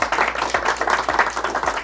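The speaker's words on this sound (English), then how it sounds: "give her a round of applause" An audience gathered for a Haddonfield local history talk applauds the event coordinator, a short, brisk burst of many hands clapping in a close room that holds steady for under two seconds.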